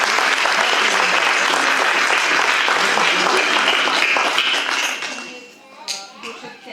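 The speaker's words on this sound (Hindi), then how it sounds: "धनश्री और हमारे मेंटर के लिए और एक बार तालियां बजाइए" Loud crowd applause for children's theatre performers fills the hall, holding steady before tapering off, with a few scattered claps and faint voices trailing at the end.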